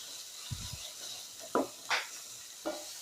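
Chili paste with onions for egg keema fries quietly in a pan, a soft sizzle and hiss broken by a few brief scraping stirs and light clinks of the spoon.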